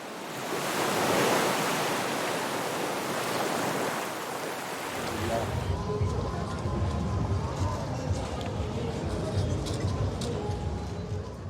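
Waves wash onto the beach at Positano on the Amalfi Coast, a broad surf hiss that fades after a few seconds into quieter ambient murmur and faint distant activity.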